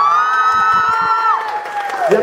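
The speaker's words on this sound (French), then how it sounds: "Vous pouvez l'applaudir." A live crowd at a showcase concert in Lyon cheers and whoops for a singer, with sustained loud voices and a few percussive claps in the middle.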